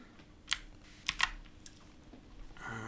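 A computer keyboard is typed on in a quiet room while a URL goes into a browser address bar: a few crisp, close key clicks in a short irregular run, then a faint hum.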